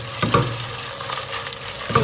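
Tom Kha Gai ingredients cooking together in a pan give a steady close sizzle, with a few scraping stirs at the start and the end.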